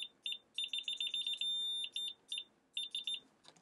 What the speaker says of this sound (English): So if we touch these, we're going to get a beep.